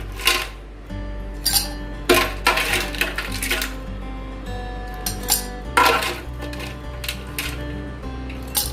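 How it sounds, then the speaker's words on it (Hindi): Ice cubes clatter into a glass for iced dalgona coffee, a series of bright clinking drops in several quick bursts, loud and close with short gaps between them. "तो मैंने ये ग्लास ले लिया और इसमें हम अभी आइस क्यूब्स डालेंगे।"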